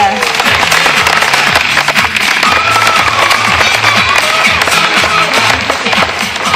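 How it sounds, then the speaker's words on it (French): An audience at a sea lion show at ZooParc de Beauval applauds in a loud, dense, continuous patter of clapping that lasts several seconds without letting up. "Nous pouvons l'applaudir."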